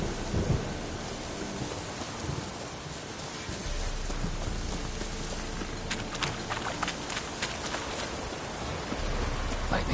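Heavy rain pours steadily in a Witcher 3 thunderstorm, a rumble of thunder building beneath it and sharp crackling strikes near the end, loud and close with no voices.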